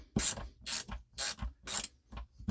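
A WorkPro ratcheting screwdriver clicking through its ratchet: five quick bursts of rapid pawl clicks in a steady back-and-forth rhythm, close and crisp, with no speech.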